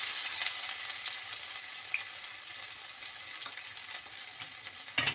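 Garlic and ginger frying in oil for veg Hakka noodles, a steady bright sizzle that runs throughout, with a brief louder burst of spattering near the end.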